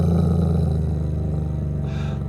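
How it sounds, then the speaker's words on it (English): A menacing, low rumbling growl, loud and sustained without a break, close up, with a faint breathy rise near the end. "The dog growled menacingly and began barking even faster and louder while scratching at the door feverishly."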